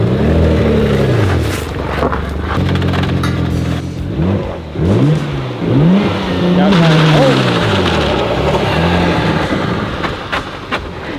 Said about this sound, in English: Already going for a burnout.